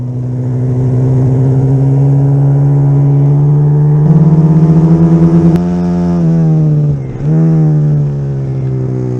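Pit bike engines in a race, steady loud droning hum from close range with pitch shifts as throttle rises and dips, a brief lull near the end, no talk.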